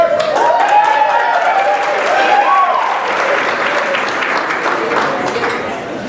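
A crowd applauds steadily at a graduation dinner, thick and loud for the whole stretch, with a few voices calling out over the clapping near the start.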